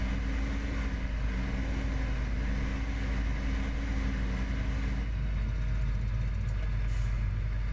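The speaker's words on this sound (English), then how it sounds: "this tractor has unbelievable sound. It's got this deep rumble" Tractor engine in the farming simulation game Farming Simulator 17 holds a low, deep, steady rumble at moderate level, changing tone slightly partway through, with no speech.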